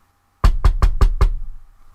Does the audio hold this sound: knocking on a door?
yes